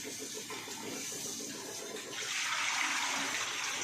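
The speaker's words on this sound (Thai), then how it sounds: "ล้างทั้งสองข้างเลยนะครับข้างในข้างนอกล้างเลยนะครับ" Running water splashes continuously as a fish is washed inside and out, close and steady, swelling a little louder toward the end.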